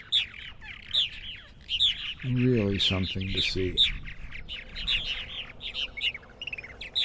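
Purple martins chirp and twitter steadily, with quick high calls repeating all the way through. Someone speaks briefly over the birds partway through.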